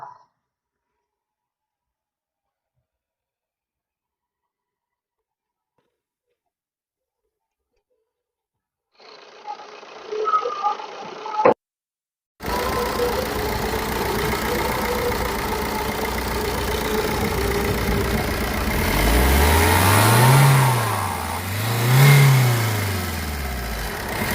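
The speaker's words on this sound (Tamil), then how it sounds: "வண்டி உங்களுக்கு ஸ்டார்ட் பண்ணி காமிக்கிறேன் பாருங்க" A Maruti Ertiga car engine is cranked and catches after a silent start, a brief mechanical rattle coming first, then a loud steady idle that swells into two quick revs near the end.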